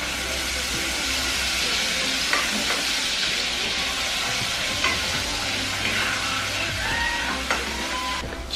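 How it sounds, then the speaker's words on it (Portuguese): Seasoning sizzles and fries in hot pork lard for beans, a loud steady crackle with occasional stirring clinks and a low hum beneath. "E agora eu vou deixar aqui a minha banha esquentar pra colocar o tempero pra pôr o feijãozinho."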